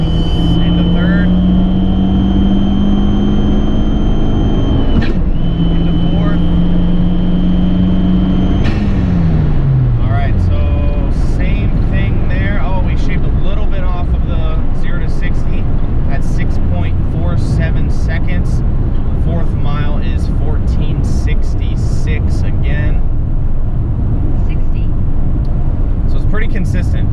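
An Abarth car accelerates hard at a drag-strip timing run, its engine droning as the revs rise, then dropping at the shift into third before pulling loudly again under heavy road and wind rush.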